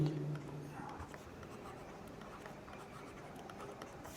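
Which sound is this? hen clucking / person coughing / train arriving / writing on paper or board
writing on paper or board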